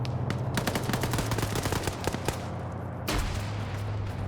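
Rapid bursts of video-game gunfire in a firefight, dense automatic fire with sharp repeated cracks, loud and close, continuing without pause throughout.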